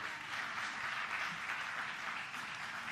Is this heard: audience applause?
yes